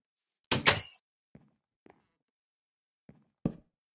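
A wooden door being broken in Minecraft, heard as one loud knock-like thud followed by four short, sparse, quieter taps and thunks with silence in between.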